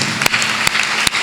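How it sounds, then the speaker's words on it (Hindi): Applause from an audience at a Hindi poetry gathering, a dense wash of clapping with a few sharper bursts standing out, loud and close, with no talk over it. "एक बार सब तालियाँ बजा दीजिए"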